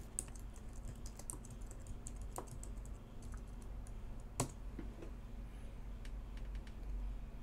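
Soft, quick taps on a computer keyboard rattle along in an irregular run, close but faint over a low background hum.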